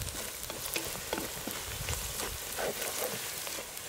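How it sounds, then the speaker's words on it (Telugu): Curry leaves fry with onions in hot oil in a pan for gongura chicken curry, giving a steady, close sizzle and crackle with faint stirring sounds. No one speaks. "ఉల్లిగడ్డలు 4-5 నిమిషాలు వేగిన తర్వాత కొంచెం కరివేపాకు వేసి కలుపుకుందాం."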